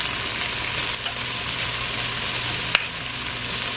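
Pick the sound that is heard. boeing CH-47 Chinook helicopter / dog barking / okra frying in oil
okra frying in oil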